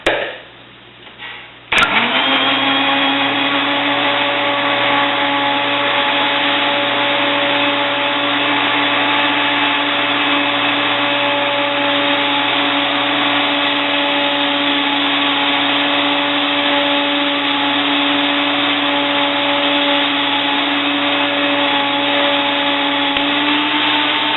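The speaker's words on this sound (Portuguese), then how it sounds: "os ovos, o fermento, o leite morno e o óleo. Vou bater essa mistura por 1 ou 2 minutinhos no máximo" An electric blender whirs up to speed after a click, steadily mixing eggs, yeast, warm milk and oil into bread dough batter, a loud close motor drone holding a constant pitch for over twenty seconds with no talk.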